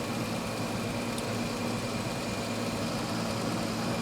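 A 1973 Triumph TR6 engine idles steadily during carburetor tuning, a constant, even mechanical drone with a low throb, close and unbroken, without speech.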